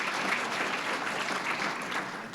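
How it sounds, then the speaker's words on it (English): Steady, dense applause from an audience at a Sarasota Bar Association gathering, loud and sustained for the whole stretch with no pauses or voices breaking through. "So let's give a round of applause for everyone,"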